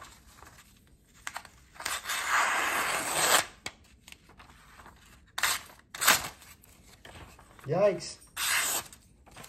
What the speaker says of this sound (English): Very slicey knife. I can tell you it works very well with cardboard